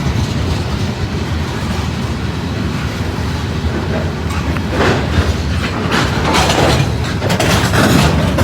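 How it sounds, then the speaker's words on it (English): A Norfolk Southern or CSX freight train rolls past close by on a cold morning near a rail yard, a steady loud rumble with rhythmic clickety-clack of wheels over rail joints and faint squeal. "This first train of the morning, it's about 28 degrees."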